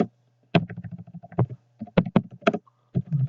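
SQL command being typed on a computer keyboard: close, distinct key clicks in short irregular clusters with brief pauses, alone without talk.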